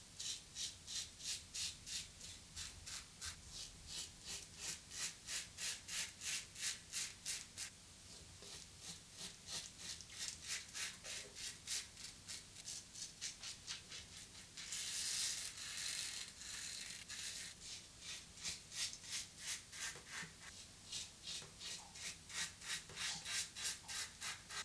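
A 1959 Fatboy safety razor making a first pass through thick lather: quick, rhythmic scraping strokes repeated in close succession, up close, with short pauses between bursts and no talking.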